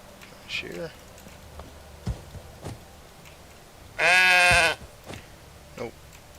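A single loud sheep bleat rings out in the middle, surrounded by brief clicks, short thumps and faint game-like sound effects, in the video game Medieval Dynasty.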